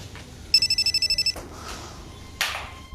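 A telephone bell rings in one short, rapid trilling burst, followed by a couple of faint clunks and a brief swish.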